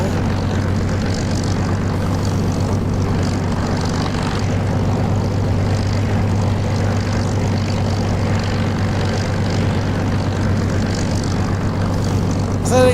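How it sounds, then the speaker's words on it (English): A Warhawk propeller fighter in the DCS flight simulator makes a low pass over a taxiway, its engine a steady, loud drone that holds throughout with little change. "Warhawk just did a low pass on the taxiway, very nice"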